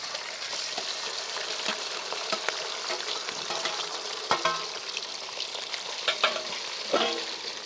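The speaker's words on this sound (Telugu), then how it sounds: "మనం ఉడికించుకున్న చికెన్ని ఇప్పుడు నూనెలో ఫ్రై చేయాలి" Boiled chicken pieces frying in hot oil for a chicken pickle, a continuous close sizzle with occasional stirring knocks and crackles, no talking.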